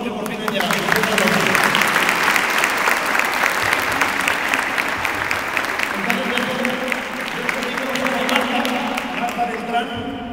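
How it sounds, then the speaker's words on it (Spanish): Loud, sustained applause from a crowd fills the room, steady clapping that continues throughout with a murmur of voices underneath. "por favor, un fuerte aplauso"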